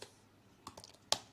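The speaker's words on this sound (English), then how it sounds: "I am going to type" Keyboard typing at a computer, a few sparse, quiet keystroke clicks with one sharper final tap, alone without talk.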